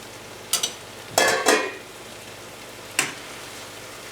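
Aloo gobi, potatoes and cauliflower in a pan, cooking down with a few soft sizzles and stirring scrapes in short bursts over a quiet background.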